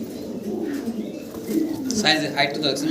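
Pigeons coo in soft, low repeated bursts close by, with brief higher chirps toward the end, set against a quiet indoor background of birds kept for sale.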